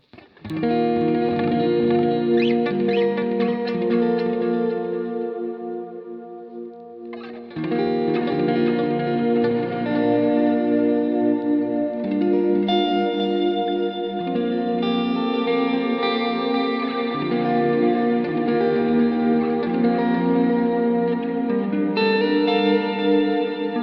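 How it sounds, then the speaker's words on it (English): An electric guitar through a Line 6 POD Go Wireless vintage digital delay and reverb plays sustained chords soaked in delay and chorus-like shimmer, repeats trailing into each other; a brief dip midway before the playing swells back. "a vintage digital delay, and I'm kind of adjusting some of the parameters on each of those effects"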